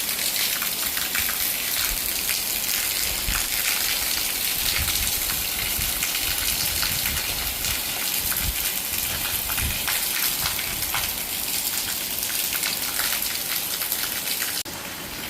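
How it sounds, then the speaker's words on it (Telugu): Steady heavy rain pouring down, a dense continuous hiss with scattered louder splashes throughout, no voices. "వర్షం చూశారు కదండి ఫుల్ పడుతుంది"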